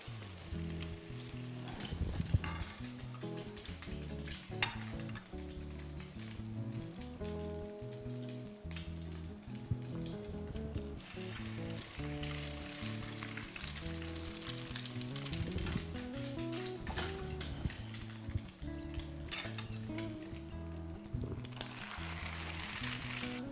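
Slices of Portuguese sweet bread French toast dipped in egg fry in a pan, a continuous close sizzle and crackle that holds steady throughout with no talking.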